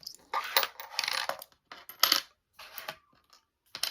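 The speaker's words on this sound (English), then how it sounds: "So I'm just going to get my coins here." Coins are handled on a table, clinking and sliding in short bursts with brief pauses between, close and fairly clear, with no talking.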